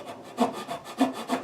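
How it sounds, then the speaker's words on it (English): A sharpened dovetail saw cuts dovetail sockets in wood, with rhythmic rasping push strokes about every half second, close and clear with no talk. "but then I got out the dovetail saw and it works a little bit faster"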